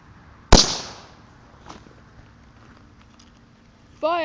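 A single sharp, loud firecracker or firework bang that decays quickly, followed by faint crackles and, at the end, a rising whistling firework launch.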